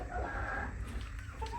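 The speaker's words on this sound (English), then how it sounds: "they're Canadian Bresse chickens, also known as American Bresse and Bresse chickens." Canadian Bresse chickens clucking faintly in a short burst of soft, low calls, distant against quiet background noise.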